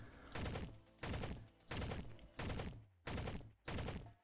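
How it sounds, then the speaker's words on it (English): An AUG three-round burst gun firing in the Shell Shockers video game, with six loud, evenly spaced bursts of sharp shots, each trailing off quickly, and no talking. "it's like a three burst to medium to short range kind of gun that shoots pretty precisely"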